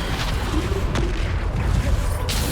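In the Hogwarts Legacy video game, a Depulso spell is cast with a dense, rumbling magical whoosh and a muffled boom over a constant layer of game sound. A sharp burst comes near the start and another near the end.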